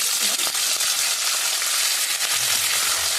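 Mustard seeds, cumin and dried chilli crackle and sizzle in hot oil, a steady dense frying hiss with scattered sharp pops, close and loud throughout with no talking.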